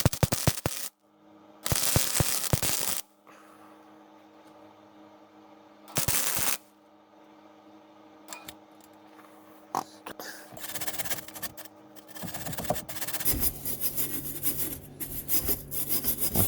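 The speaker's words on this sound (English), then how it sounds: "We're going to weld up a couple of these pits." Flux core welder filling rust pits on sheet metal; bursts of harsh crackling sizzle of a few seconds each alternate with quieter pauses, ending in a longer sputtering run.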